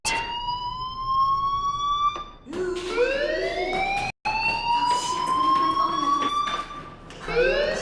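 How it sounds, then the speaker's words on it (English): An electronic fire alarm sounds in a school within the video game Life Is Strange, a loud wailing siren-like tone with rising sweeps that repeat steadily, dropping out briefly before resuming, with faint voice-like sounds underneath. "do you hear that fire alarm? That means you should be outside."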